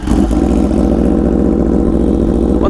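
An Aprilia RSV4 superbike with an SC Project exhaust fires up and settles into a loud, steady, throbbing idle close by, a brief starter burst at the start, no talking.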